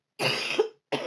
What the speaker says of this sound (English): got a nasty cough